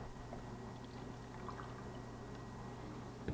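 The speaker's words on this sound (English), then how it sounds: "Now we're going to put 8 ounces of developer in each cap." Film developer poured into the cap of an 8x10 BTZS film tube, a soft steady liquid pour with faint trickling, low and continuous throughout.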